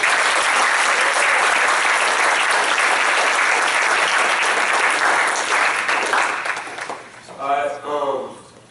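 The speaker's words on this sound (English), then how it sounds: "let's give the candidates a round of applause." Loud, dense applause fills a school senatorial debate hall, holding steady for several seconds before thinning out, with a voice starting to speak near the end.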